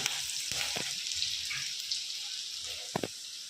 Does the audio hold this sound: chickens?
no